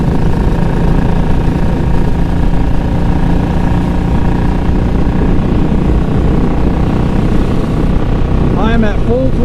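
A Royal Enfield Classic 500 motorcycle engine runs at full throttle around 2,000 RPM, a loud, steady, dense drone with wind rush, and a voice briefly breaks in near the end.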